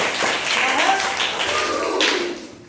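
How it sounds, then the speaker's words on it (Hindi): Classroom students clapping together, a dense steady patter of many hands lasting a couple of seconds, fairly loud and close, with a teacher's voice speaking over it. "शाबाश, ताली बजाइए।"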